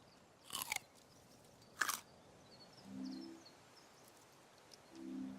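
Berries being eaten in a survival video game set in a forest: two short crunchy chewing bites near the start, each followed later by a soft low gulp-like tone, with no talk.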